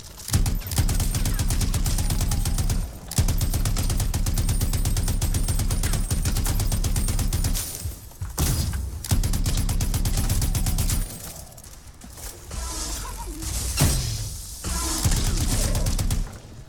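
Sustained automatic fire from a light machine gun and heavy pistol shots in the Anthem video game, long dense bursts broken by brief pauses, loud and close, with no talk.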